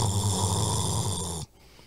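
A man imitates snoring with his voice, one long, loud, rasping breath close to the microphone that cuts off abruptly.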